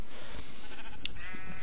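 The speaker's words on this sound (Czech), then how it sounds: "Ale ovce, to se nedá sníst" A sheep in a Minecraft-style video game bleats briefly over a dense, constant background of game noise.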